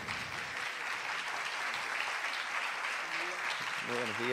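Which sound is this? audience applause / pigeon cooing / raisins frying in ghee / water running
audience applause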